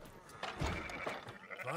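Sheep bleating in the open-world western game Red Dead Redemption 2, a couple of wavering bleats close by at moderate volume over faint ambient game background.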